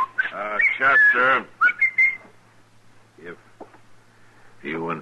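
Whistled tune in an old-time radio Western drama, with a voice speaking amid and around it; bright, wavering melodic notes alternate with talk, fairly close and moderately loud.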